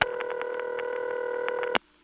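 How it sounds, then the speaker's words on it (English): Tones from a Number 1 ESS tandem switch on the telephone network play as a steady tone with a rapid series of short beeps over it, all ending abruptly and leaving near silence. "is the sound of a number 1 ESS tandem."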